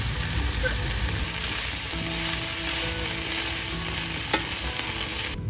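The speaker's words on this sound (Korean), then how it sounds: "그보다 더 유통기간이 짧은 초록색들하고 빨리 더 볶았어요 그냥." Tofu noodles and green vegetables sizzle and crackle steadily in a hot pan as they are stir-fried, with a spatula scraping and clinking now and then and no talking.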